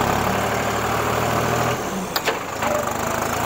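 The engine of a 55 hp Deutz Fahr Agrolux tractor runs at a steady idle close by, with a low drone that drops away partway through and is broken by a couple of brief sharp knocks.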